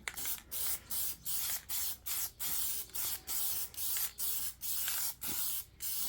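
Plasti Dip sprayed in a heavy second coat onto an Acura TL, heard as a steady series of about a dozen short, close hissing bursts with brief gaps between them, no voices.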